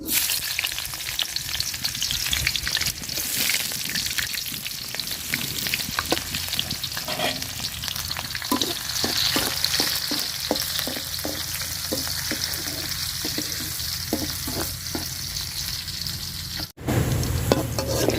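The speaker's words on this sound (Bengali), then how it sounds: "তেল গরম হয়ে গেছে পেঁয়াজ দিয়ে দিলাম" Onions tossed into hot oil crackle and sizzle loudly and continuously while a spatula scrapes and stirs in quick strokes near the middle. The sizzle briefly cuts out near the end before resuming; no voices.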